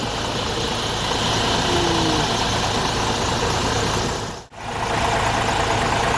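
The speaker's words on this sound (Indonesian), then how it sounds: "ternyata bus ini menggunakan mesin Hino RN ya 285 dari Mustika." A Hino RN 285 bus diesel engine idles steadily at close range, a constant low rumble with a brief dip near the end before it resumes.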